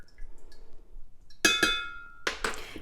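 A spoon stirs borax solution in a glass mason jar, giving a few sharp close clinks and taps against the glass, with one short ringing tone between them, after a quiet start.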